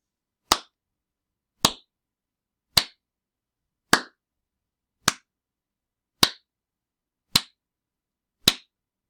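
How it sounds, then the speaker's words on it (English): Eight sharp, evenly spaced hand claps for a preschool counting game, each one crisp and isolated against silence, about one per second. "I'm going to clap my hands, and I want you to count how many claps."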